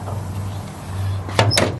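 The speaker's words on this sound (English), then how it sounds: "and shut the door and walk away" A smoker door swings shut with two quick metallic clunks close to the microphone after a steady low hum, ending in a brief drop.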